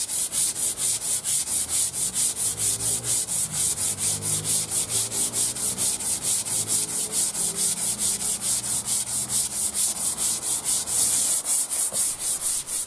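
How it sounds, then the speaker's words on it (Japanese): A brush scrubs dirty wet tiles hard in a fast, regular back-and-forth rhythm, each stroke a loud close rasp, repeating steadily for the whole stretch without speech. "汚れがきついところは力を入れてこすります。"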